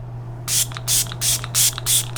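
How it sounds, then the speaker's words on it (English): Five quick bursts of facial setting mist from a pump bottle, close and crisp, evenly spaced with short pauses between. "If you like setting spray, that is not a shy mist."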